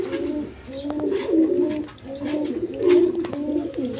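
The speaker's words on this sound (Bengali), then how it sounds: "দর্শকবৃন্দ এখানে এক পেয়ার কবুতর আছে" A pair of fancy pigeons, a Mosholdom hen and a Kaldom cock offered for sale, coo in repeated rolling phrases close by, the throaty calls rising and falling in a steady rhythm over a faint background hum.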